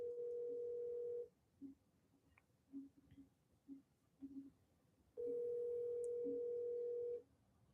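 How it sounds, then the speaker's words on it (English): Telephone tones while placing a call: a steady tone sounds for about a second, a short run of quiet beeps follows, then the tone returns for two more seconds, close and clear. "Let me see if I can make a phone call."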